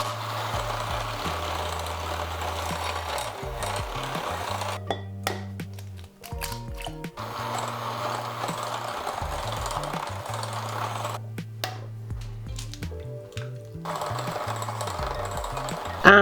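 An electric mixer beats eggs into creamed butter and sugar for a lemon poppyseed cake, whirring steadily in long stretches broken by short pauses and light clinks between additions.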